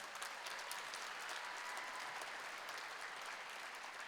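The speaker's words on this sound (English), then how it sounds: "let's clap for that" An audience at a FIRST Robotics district championship ceremony claps steadily and evenly, heard fairly faint and distant, with no talk over it.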